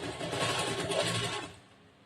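A sewing machine stitches a plain blouse, giving a fast, close, even whirring rattle for about a second and a half before it stops and fades to quiet.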